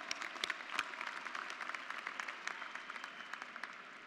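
Audience applause at a graduate and professional commencement ceremony: steady, dense clapping from a large crowd with sharp individual claps standing out, sustained for the whole stretch at moderate loudness.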